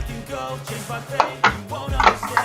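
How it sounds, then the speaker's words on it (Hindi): Cooking pots come out of a kitchen cabinet with a series of close, sharp metallic clanks and knocks at an irregular rhythm, over low rumbling background noise. "हमने बर्तन निकाल दिया।"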